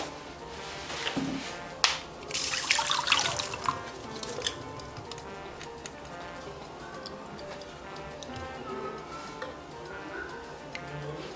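Dark water that has soaked for three days is strained through a sieve, giving soft splashing, dripping and trickling with a few sharp ticks and taps, close and fairly quiet, busiest early then settling into sparse drips.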